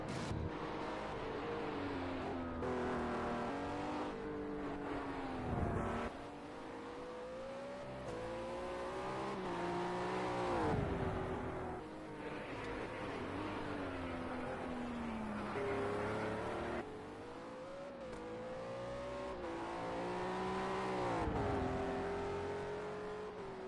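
A World Series by Renault race car on the Bathurst mountain circuit is heard from a distance. Its engine note climbs and drops through gear changes in long sweeps, steady and moderately loud, with no talking.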